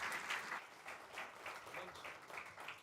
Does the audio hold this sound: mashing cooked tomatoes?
no